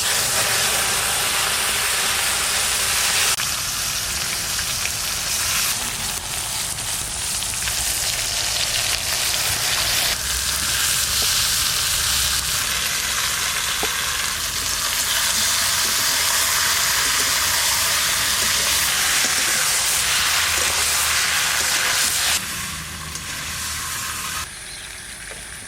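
Meat frying in hot mustard oil in a village-style wok, a loud, close, continuous sizzle and hiss with shifting intensity as pieces are stirred, easing slightly at the very end.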